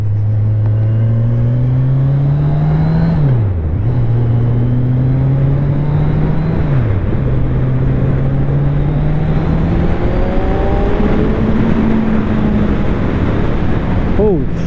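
A Kawasaki Ninja 1000 SX motorcycle engine drones loudly and steadily while riding, its pitch climbing through gears with two clear dips at shifts, and wind rushes throughout.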